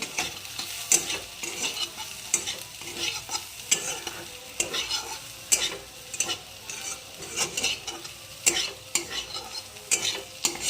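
Fried egg bhujia is stir-fried in a pan, with a constant sizzle broken by repeated close scrapes and clinks of a spatula against the metal, steady rhythmic stirring and no speech.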